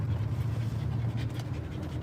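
A big dog pants steadily and close by, its rapid breathing forming a continuous rhythmic huffing with a faint scratch now and then.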